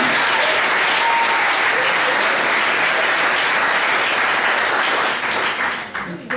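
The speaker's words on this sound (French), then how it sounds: "Je vous demande d'applaudir Johanna Gay pour son thème, la comptabilité au féminin." A crowd at an eloquence prize ceremony applauds loudly and steadily, the clapping dense and sustained before tapering off at the end.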